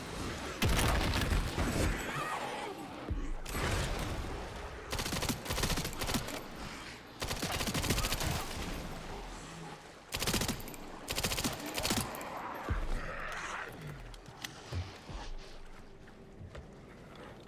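Shotgun fire in the video game Resident Evil Requiem: repeated heavy blasts and bursts of gunfire with crashing impacts over a dense, loud game soundscape, no talk.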